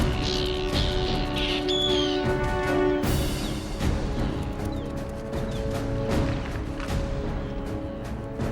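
Arctic terns calling harshly as they dive at a polar bear raiding their eggs, loud repeated raspy cries overlapping in a dense, continuous chorus.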